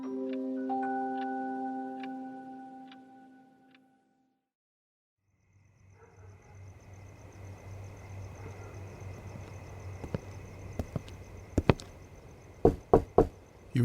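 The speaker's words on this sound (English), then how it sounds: "You knock on the door, and it opens somehow." Knocking on a door in a narrated horror story, a few sharp knocks rising out of quiet after a fading musical tone, growing louder and more insistent toward the end.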